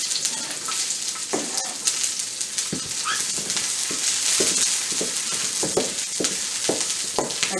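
Onions and garlic frying in oil for shrimp fried rice, a loud, continuous sizzle broken by repeated spatula scrapes and taps at an irregular rhythm close by.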